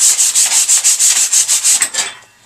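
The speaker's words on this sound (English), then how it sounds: "I sand it down" Sandpaper rubs back and forth on a wooden tool handle in about a dozen quick, even strokes, close and crisp, then slows and fades away.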